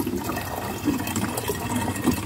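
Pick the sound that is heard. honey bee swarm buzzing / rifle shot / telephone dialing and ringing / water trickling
water trickling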